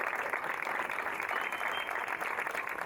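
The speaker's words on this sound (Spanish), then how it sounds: "Un fuerte aplauso para las madres" A crowd in the Plaza de Mayo applauds the Mothers of the Plaza at their Thursday gathering, with dense, continuous clapping heard from a distance and no talking throughout.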